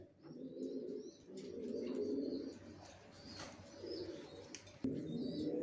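Racer pigeons coo in low rolling bursts, one after another, quiet and close, with a few faint chirps and a brief rustle, no talking.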